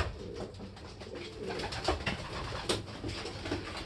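Soft, throaty cooing of a pigeon close by, repeated in low rolling phrases over faint background noise.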